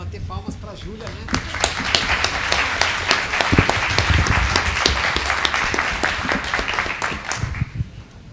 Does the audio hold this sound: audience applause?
yes